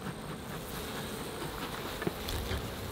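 Honey bees swarm around an open beehive, making a dense, continuous buzzing hum that stays steady and close throughout, with no talk.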